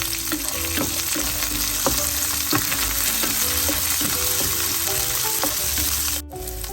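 Curry leaves and green chillies fry in a pan with oil, a continuous loud sizzle with rhythmic stirring clicks throughout, cutting off briefly near the end.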